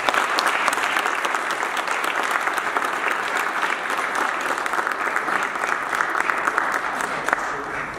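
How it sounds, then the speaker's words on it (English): A crowd at a New York City Council event breaks into steady, dense applause that holds at a fairly loud level with no pause, as a councilman is invited up. "Can we give a round of applause to"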